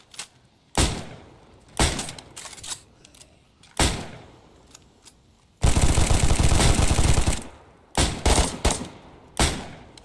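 Gunfire in the DayZ video game: single loud shots spaced a second or two apart, then a sustained burst of rapid automatic fire lasting about two seconds, followed by a few more quick shots.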